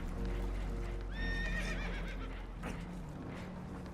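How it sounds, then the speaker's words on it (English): Spooked horses on a boat taking on water in Red Dead Redemption 2 give a loud, shrill whinny rising over steady rushing water and creaking noise, followed by a fainter snort. "Horses are spooked, and we're taking on water"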